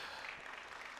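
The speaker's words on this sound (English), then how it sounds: "A round of applause for them once more." At a Science Week 2023 panel, an audience applauds the panelists with a faint, distant wash of many hands clapping. The dense, even patter continues without a break and no one speaks.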